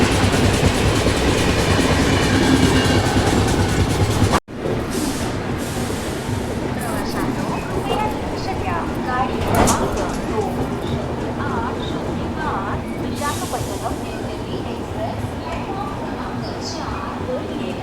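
The Andhra Pradesh Express, the Visakhapatnam–New Delhi train, crosses a bridge in a loud, continuous clattering roar of wheels on rails, broken by one abrupt cut before the rumble resumes with rapid rhythmic clacks.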